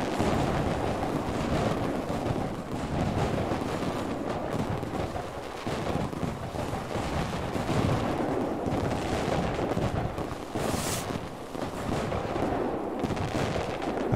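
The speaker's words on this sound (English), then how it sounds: "The red explosions, whoa." Dense, continuous booming and crackling bursts of red fireworks in the game Fireworks Simulator overlap one another, a steady barrage of loud explosions with no pauses and no talking.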